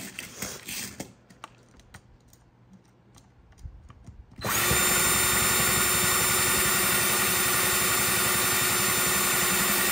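After a few seconds of light tapping and handling, a power drill starts up close and loud, drilling holes for 25mm rings in a traveler's notebook, whining steadily to the end.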